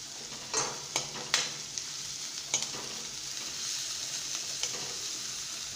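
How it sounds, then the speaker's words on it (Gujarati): Finely chopped medium onion sautés with garlic in a pan of hot oil for dal makhani, a steady sizzle broken by several scraping stirs of a spoon, close and clear with no talk. "કાંદાને પણ આપણે થોડો સાંતળી લઈશું।"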